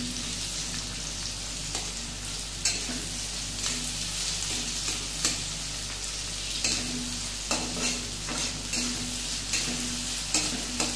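Onions fry in a pan for chicken curry, a steady close sizzle running throughout with soft periodic stirring scrapes and taps of a spoon against the pan.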